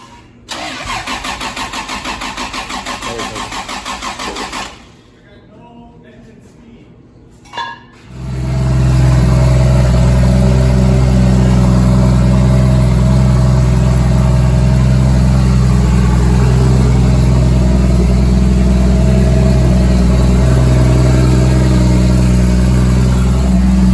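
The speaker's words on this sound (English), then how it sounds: "Going to get Carlos's car started. Let's check for first startup." A Mk3 car fitted with a 1.5JZ engine starts for the first time in a workshop, cranking and catching before settling into a loud, steady idle that rumbles on without any talking.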